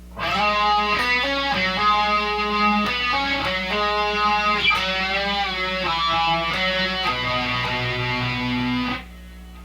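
Slow electric guitar rendition of a solo, with sustained singing notes, bends and releases played one after another in a steady, unhurried line for about nine seconds, clear and up front.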